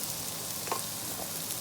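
Chopped onion with salt and pepper sautéing in a pan, a steady close sizzle and crackle with faint stirring scrapes.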